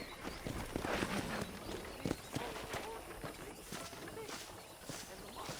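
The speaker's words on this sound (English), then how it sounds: "I picked out a fine horse for you." Horse hooves clip-clop across the ground in the Red Dead Redemption video game, a steady rhythmic trot at moderate distance, running under ambient outdoor sound and game dialogue.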